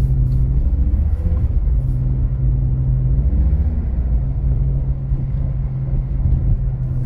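A BMW E46 engine drones low and steady while the car drifts on snow, a loud continuous rumble with little change in pitch, heard from close by without speech.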